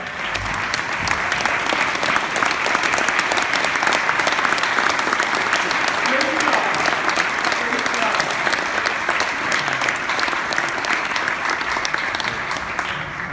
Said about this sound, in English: applaud yourself, and everybody else applaud him